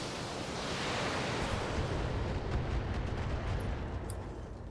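Heavy mech weapons fire in the BattleTech video game as a sustained, booming barrage, loud and dense throughout with a rumbling low end and no break between blasts.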